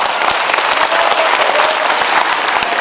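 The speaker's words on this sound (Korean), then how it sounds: "박수해 주십시오." A crowd claps at an inaugural rally for relocating the Gwangju military airport: a dense, continuous burst of applause at steady loudness, with no talk over it.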